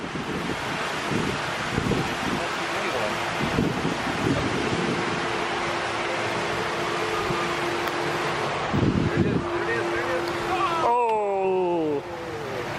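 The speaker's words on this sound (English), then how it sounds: "Is the wind going to mess him up?" Strong wind roars and buffets the microphone on an outdoor mini golf course, a steady gusty rush throughout, with people talking and cheering over it and a brief whistling tone near the end.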